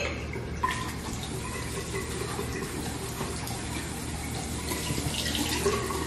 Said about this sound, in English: we gotta wash these fruits.